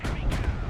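Gunfire in the military strategy game Broken Arrow, a dense burst of loud, overlapping shots and booms filling the moment with only brief dips in intensity.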